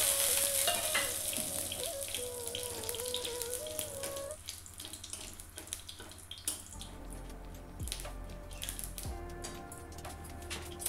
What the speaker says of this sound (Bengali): তেলটা গরম হয়ে গেলে একটা তেজপাতা, একটা শুকনো লঙ্কা, কয়েকটা গোলমরিচ আর কয়েকটা গোটা জিরে দিয়ে দিয়েছি।